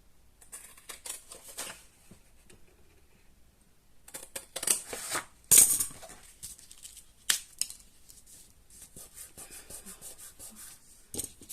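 Scissors snip and rustle through material while a coaster box is being made, heard as quiet, scattered cutting bursts with a sharper snip midway and no talking.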